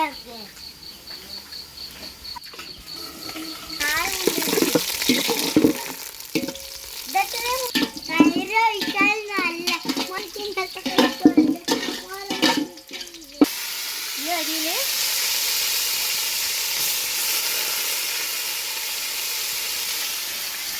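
Onions fry in oil for chicken biryani, a steady close sizzle with stirring scrapes. Tonal, voice-like sounds ride over the middle stretch before the frying hiss continues alone and evenly.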